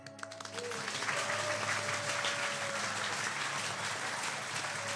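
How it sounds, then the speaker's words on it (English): A live audience at a Pathfinder tabletop game show breaks into applause. The clapping starts quickly and holds at a steady, dense roar for several seconds, with faint voices mixed in. "everyone claps"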